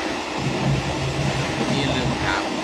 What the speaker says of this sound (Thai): ตอนนี้อยู่บนรถไฟครับ